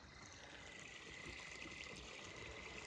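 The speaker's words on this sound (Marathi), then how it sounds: "पटपट पटपट पाणी भरायचं काम चाललंय" Steady water flowing and trickling through an irrigation channel in a garlic field at night, a continuous gentle wash at moderate distance with no talk.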